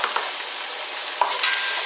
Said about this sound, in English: With this pan we've got to continuously stir, otherwise it's going to sit there and burn